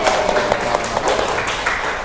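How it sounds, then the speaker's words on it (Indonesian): Hands clapping steadily in a classroom, a dense mid-level patter that runs without a break from start to finish and has no voices over it. "Tepuk tangan."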